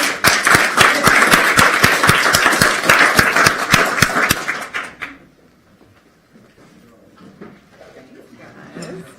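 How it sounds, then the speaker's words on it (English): A live audience at a lunch gathering claps loudly in a dense burst for about four seconds, then the applause cuts off, leaving quiet room noise with faint talk. "Let's give them a round of applause."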